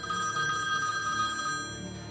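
A telephone ringing steadily in a dramatized crime reconstruction, a continuous trilling bell that holds at an even level for a couple of seconds before easing off.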